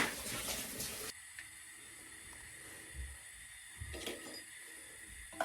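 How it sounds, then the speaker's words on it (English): Quinoa being rinsed under a running kitchen tap: a steady, close rush of water that drops to a quieter trickle after a second, with a few soft splashes and knocks as the grains are swirled. "I'm going to rinse my quinoa one more time."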